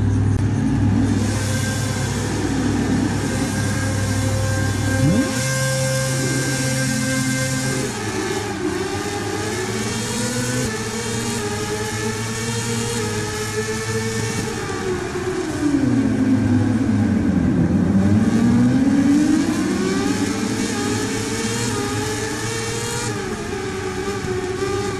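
Racing motorcycles at the Austin US Grand Prix in the MotoGP 2019 game, a loud continuous engine rumble with revving that swells, dips sharply and climbs again, close and steady without speech.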